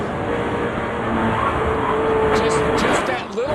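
A NASCAR race car on fresh tires runs wide open at a racetrack, its engine a loud, continuous roar close by that swells briefly with a throttle blip toward the end.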